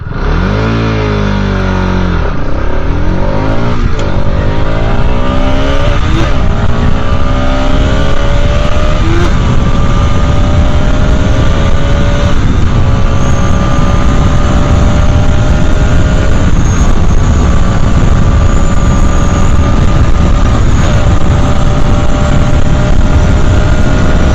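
A Bajaj Pulsar RS 200 motorcycle pulls away and accelerates hard through its gears, the engine note climbing and dropping at each shift. It is loud, close and continuous, with no talk.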